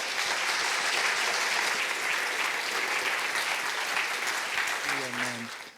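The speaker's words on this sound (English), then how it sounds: "Please applaud Frans de Waal." Lecture audience applauding after a speaker's introduction, sustained full applause from a large crowd that fades near the end while a voice begins.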